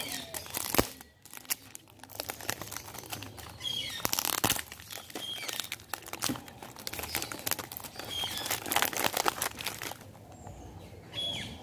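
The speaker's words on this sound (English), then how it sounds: "So I'm going to remove the cellophane." Cellophane wrapper crinkles and tears as it is peeled off a 100 ml K by Dolce & Gabbana perfume box, with close, irregular crackles and a few sharper rips.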